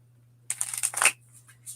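Wild Unknown Animal Spirit oracle cards riffled in a quick shuffle, a dense burst of papery flicks lasting about half a second, then a few lighter card taps; close and fairly quiet, with no talking.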